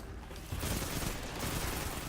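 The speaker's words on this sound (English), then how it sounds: "The recoil is a little bit brutal on the scout rifle." Scout rifle gunfire in Destiny 2 on Earth, a loud, continuous crackling volley of shots that runs with little gap for about two seconds, without any talking over it.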